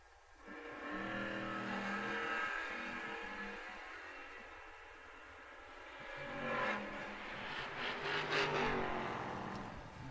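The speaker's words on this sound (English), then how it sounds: "That'll bring up Dancing Daniel Johnson in the Vega and Wesley Svatba on the Budweiser side in the Camaro" A Vega and a Camaro race down a drag strip in an outlaw series event: their engines roar and climb in pitch at a moderate distance, swelling louder toward the end.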